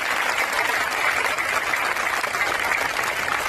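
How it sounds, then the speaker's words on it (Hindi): Loud, dense clapping from a large audience in a religious gathering tent, steady and sustained throughout with no voices over it. "अगर इस पंडाल में जोरदार ताली बजाओगे तो लोग कहेंगे भक्त है, परमात्मा के ताली बजा रहे हैं।"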